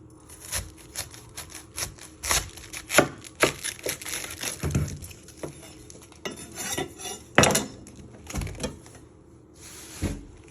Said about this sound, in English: You're first going to chop the end off.